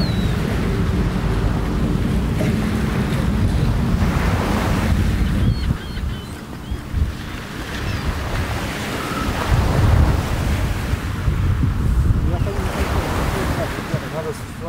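Sea waves surge and wash continuously over the Barents Sea site where the Kursk submarine sank, with strong wind buffeting the microphone throughout, loud and close, a brief lull midway before the roar builds again.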